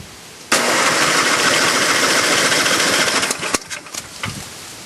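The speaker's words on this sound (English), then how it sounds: "Don't want to run that starter too long because you don't want to overheat it." A John Deere 1026 tractor's starter cranks the cold engine in a loud, sustained, buzzing whir close up for about three seconds, then stops and leaves a few faint clicks and clunks.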